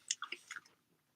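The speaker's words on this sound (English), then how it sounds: "This is what it sounds like from teeth to apple." An apple bitten and crunched close to the mic, several sharp crisp crackles packed into the first half second, then quiet chewing fading away.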